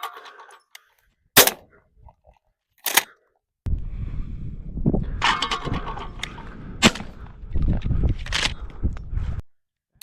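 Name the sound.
HK MP5 .22LR rifle shots at range targets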